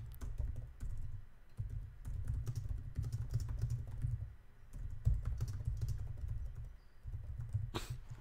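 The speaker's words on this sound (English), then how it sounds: "I can type." Steady computer-keyboard typing, a fast continuous patter of key presses at close range with brief pauses, no voices over it.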